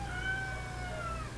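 A pet cat indoors gives one drawn-out, high meow at close range over a low background hum. There is no talking.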